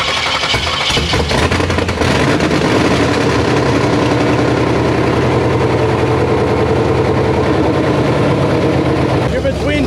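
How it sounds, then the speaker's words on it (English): A Camaro burnout car's engine idles steadily and loud throughout, a deep rumbling beat with a slight waver, while people talk nearby. "It's idling fucking perfect."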